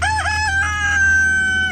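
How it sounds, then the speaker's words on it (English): A rooster crows loudly and close by, one long drawn-out cock-a-doodle-doo holding steady before cutting off. "Here is an epic battle between a boy and a rooster."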